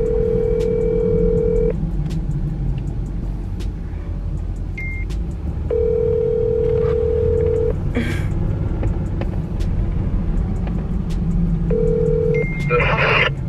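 A phone ringback tone pulsing in long repeated beeps while waiting for an answer, heard inside a car over a constant road and engine rumble, with a brief noisy rustle in the middle.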